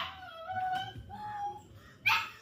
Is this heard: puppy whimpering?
yes